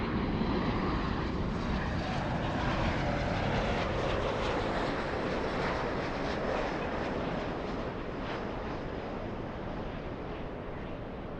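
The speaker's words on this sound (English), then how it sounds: "you're just in time to see Yanko Tango 747 Retro Lufthansa" A Lufthansa Boeing 747 in retro livery moves past at LAX, its four-engine jet rumble a sustained, even roar that swells slightly and then eases off toward the end, heard alone with no talking.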